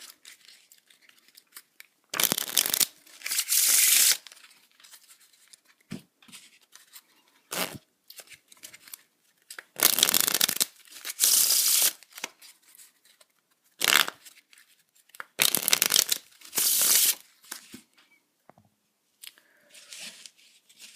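Two decks of playing cards shuffled together during a magic trick: repeated crisp, papery riffling bursts of a second or two each, with short pauses between them, close up and with no talking.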